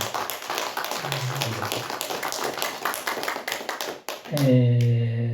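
A Korean church congregation on Children's Sunday applauds a deaconess, a steady patter of many hands clapping for about four seconds before it cuts off and a voice begins.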